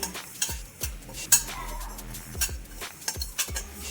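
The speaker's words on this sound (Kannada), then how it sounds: "ಸಾಸಿವೆ, ಜೀರಿಗೆ, ಬಿಳಿ ಎಳ್ಳನ್ನ ಡ್ರೈ ರೋಸ್ಟ್ ಮಾಡ್ಕೊಳ್ತಾರೆ." A spoon repeatedly scrapes and clinks in a pan while mustard seeds, cumin and white sesame dry roast, giving rhythmic close stirring strokes over a faint crackle.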